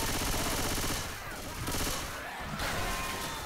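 Sustained gunfire from Left 4 Dead 2, a dense, loud rattle of rapid shots running almost throughout with a short dip in the middle, set against a busy game soundscape.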